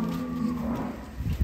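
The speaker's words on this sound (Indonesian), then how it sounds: "Ada sapi-sapi unik." A cow moos in one long, loud, low call lasting over a second, up close at a cattle market selling unusual livestock, with crowd noise underneath.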